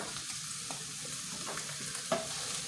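Meatless meatballs browning in a pan, with a soft steady sizzle and a few light stirring scrapes, plus one brief clink near the end, heard close up.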